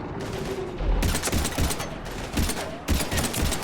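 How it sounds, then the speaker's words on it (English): Heavy gunfire rattles through a Mass Effect 3 firefight on Mars, with dense overlapping shots and bursts in a loud, continuous barrage. A brief lull comes near the start. "We're taking heavy fire."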